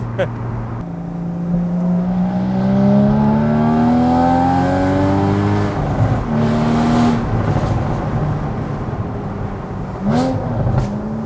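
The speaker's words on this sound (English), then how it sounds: "Try and rev match it like that. Definitely increases the burbles." A car engine revved up and held while stationary, a rising drone that climbs over several seconds, then drops with burbling crackles and blips, loud and close, with someone talking over it.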